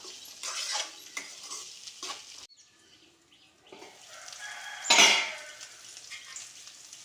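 Potatoes and peas masala in a pan are stirred and roasted with a soft sizzle, scraping strokes coming in uneven bursts, close and moderately quiet, with one louder scrape near the end.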